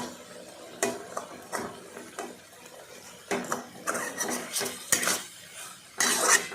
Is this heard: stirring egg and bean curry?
yes